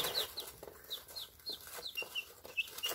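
Several baby chicks cluck and chirp softly in short repeated calls, close by, over a steady background hiss.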